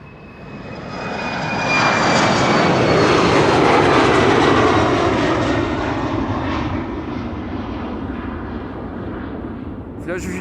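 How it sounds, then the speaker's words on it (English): A KLM airliner on a flight to Billund passes at Schiphol's Polderbaan, its engine roar swelling loud and close over the first few seconds with a descending whine, then slowly fading. "This is KLM flight 1295 to Billund."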